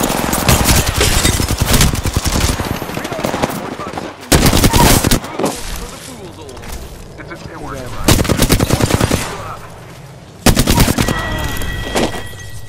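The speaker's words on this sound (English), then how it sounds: "she's on her Gatling gun" A Gatling gun fires in long, loud sustained bursts during a video game, broken by short pauses and heavier volleys, with players talking over the gunfire.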